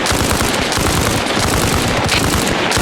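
Machine gun fire in the military shooter game Arma Reforger, a loud, dense, unbroken rattle of rapid shots throughout.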